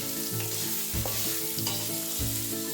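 Cashews fry in ghee with a steady close sizzle, while a utensil stirs and scrapes the pan in a regular repeating rhythm.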